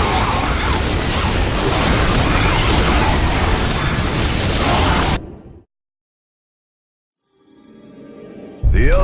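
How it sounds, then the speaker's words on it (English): Orbital bombardment in a Warhammer 40,000: Dawn of War Dark Crusade cutscene: a loud, dense roar of explosions for about five seconds that cuts abruptly to silence, then a faint rumble rising before another burst. "This area must be cleansed with orbital fire."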